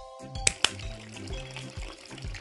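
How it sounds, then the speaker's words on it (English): Water trickles and splashes steadily after a couple of sharp clinks, a light continuous pour of hot water into a teapot close by with soft background tones. "Add some hot water."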